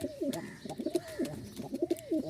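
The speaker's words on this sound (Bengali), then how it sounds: "চিকন ডাকের ককা ডাক শুনতেই পাচ্ছেন" Pigeons kept in pairs coo in a soft, repeated rhythm, several low rolling calls in quick succession, close by and fairly quiet with no talk over them.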